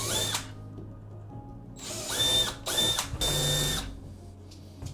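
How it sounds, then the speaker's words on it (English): A power drill running in reverse with a 5mm bit whirs in several short bursts, revving up and winding down between them, close and fairly loud with brief pauses. "I'm running my drill backwards with a 5mm, just marking it."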